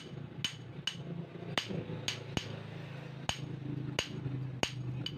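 Sharp metallic knocks from a leaking front shock absorber on a Daihatsu Luxio repeat at irregular intervals, about nine of them, close and distinct over a low mechanical hum.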